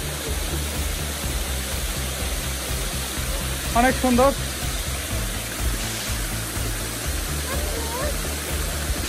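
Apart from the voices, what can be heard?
Chingri waterfall flowing on the Keokradong trek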